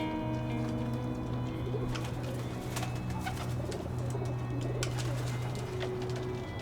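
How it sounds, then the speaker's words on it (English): Big white king pigeons coo in low, soft repeated calls against a steady background hum, with occasional sharper chirps and clatters scattered throughout. "these big white king pigeons"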